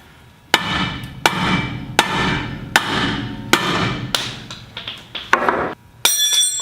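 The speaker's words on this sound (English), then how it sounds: "I'm hitting right on the edge of this yoke, right here." A sledgehammer strikes the edge of a driveline U-joint yoke during a universal joint replacement: about eight sharp, ringing metallic blows, evenly spaced and close, followed by a brighter clink at the end.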